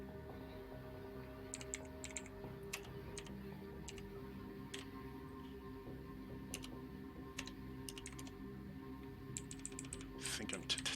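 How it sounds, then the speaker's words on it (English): Rapid computer-keyboard typing during a tabletop role-playing session: irregular bursts of sharp clicks run across the stretch and thicken near the end, over a steady low hum with faint talk in the room. "I think I'm typing that wrong."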